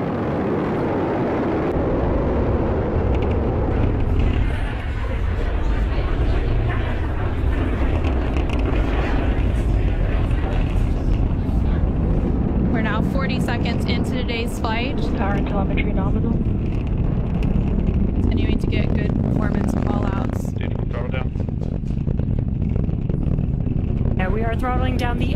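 SpaceX Falcon 9 rocket carrying Crew-10 during ascent, a continuous loud broadband roar with crackling bursts later on, heard under a launch commentator's voice.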